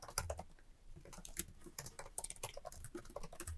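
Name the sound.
typing on a computer keyboard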